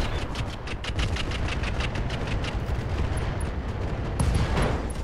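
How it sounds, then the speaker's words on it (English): Gunfire and a mech's ammunition explosion in the Roguetech video game, a dense rapid rattle of shots over a heavy rumbling roar, loud and continuous with a stronger burst near the end. "Mech destroyed. Ammo explosion."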